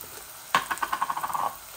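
Chopped onions frying in a pan with salt just added, giving a steady crackling sizzle with a sudden loud onset, close and alone with no talk.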